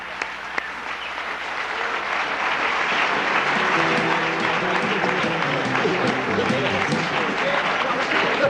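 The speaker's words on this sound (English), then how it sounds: "Let's give them both a great round of applause." Sustained applause from an audience swells and holds steady, a dense wash of clapping hands filling the room without pause.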